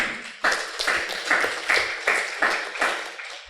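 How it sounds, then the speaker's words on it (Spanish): An audience at a panel discussion on Quechua literary publishing claps for a panelist: a steady run of sharp, evenly spaced claps that sound fairly close and stay even in loudness throughout. "Por favor, un fuerte aplauso también para Luis Camacho."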